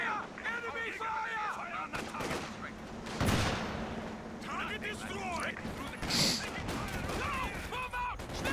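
Gunfire and artillery from the Company of Heroes 2 battlefield, with repeated shots and a heavier blast about midway, set under shouting soldiers' voices throughout.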